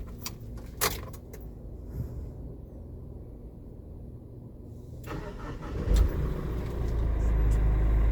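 Keys jangle near a brand new Fuso Canter 4-wheeler truck, then its Euro 5 turbo diesel engine cranks and catches, rising into a low, steady idle that grows louder toward the end.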